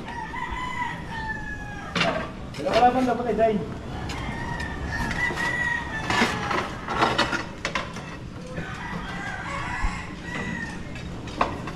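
A rooster crows loudly nearby at a Filipino home where chickens are kept, with clucking fowl around it and people chatting in Tagalog and Bisaya over the calls.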